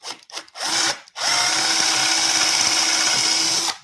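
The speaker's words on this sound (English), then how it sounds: "Drill the hole." A power drill bores a hole in wood in a woodworking shop, with a few short bursts followed by a steady, loud, close whir that runs for about three seconds and then stops.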